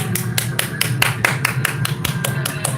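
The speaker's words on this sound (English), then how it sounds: "Let's all enjoy this for a minute, guys. Everybody clap." Steady rhythmic clapping during a live stream, about a dozen crisp, evenly spaced claps close to the microphone over a low background hum.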